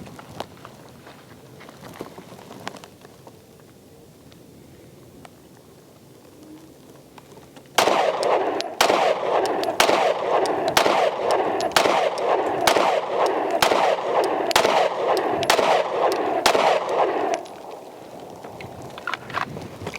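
Rapid series of about fifteen sharp gunshots from a Glock 43X pistol fitted with an Arc Reactor slide, fired at a range, loud and evenly spaced over roughly ten seconds after a quiet stretch.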